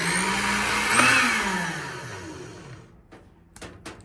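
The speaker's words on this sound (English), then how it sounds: "So I'm gonna plug this mixer here," A household mixer-juicer runs with a steady motor whir, loud and close, its pitch rising and then sliding down as it spins down around the third second, followed by a few faint clicks and knocks.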